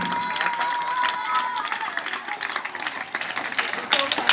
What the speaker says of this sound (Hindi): जोरदार तालियों से अभिनंदन करेंगे